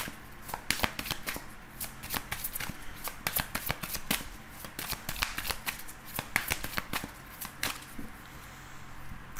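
A deck of tarot cards is shuffled and cut by hand in a quiet room, making a long, close, crisp riffle of rapid card flicks and soft slaps that thins out near the end.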